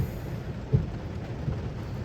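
Rain falls outside a car with the window cracked open, a steady broadband hiss with a couple of soft, low thumps and no talking.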